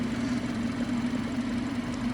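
A BMW 420i Gran Coupe's 2-litre twin-scroll turbo petrol engine runs at a steady, smooth idle, giving a constant low hum close by with no voices over it.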